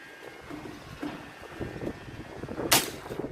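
A Hummer X air rifle fires once outdoors, a sharp crack late in the moment over steady wind noise and faint rustling.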